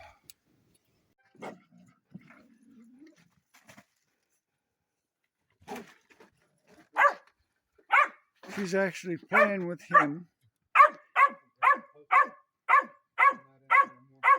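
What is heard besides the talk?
dog barking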